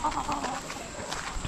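Free-range backyard chickens on a small village poultry farm in Konkan cluck and chatter in a continuous, moderately close flock murmur, with scattered louder calls standing out over the steady farmyard din.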